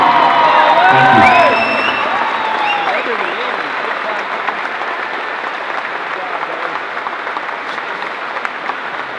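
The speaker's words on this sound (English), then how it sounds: "I want to see everybody on their feet giving Collin one more standing round of applause" Audience on its feet gives a standing ovation for a young award recipient, loud dense applause mixed with cheers and whoops, strongest at the start and holding steady after.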